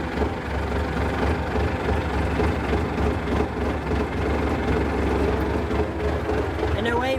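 An International 574 tractor engine pulls away in high gear, a steady, loud, low diesel drone with rhythmic knocking that continues without a break.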